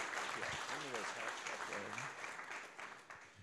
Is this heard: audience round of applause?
yes